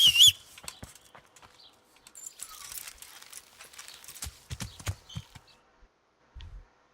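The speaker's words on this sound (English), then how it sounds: "Horse, get over here." Horse hooves clip-clop in a scattered, uneven patter in the video game Kingdom Come Deliverance, fairly faint and close, with quiet ambient bird chirps between steps.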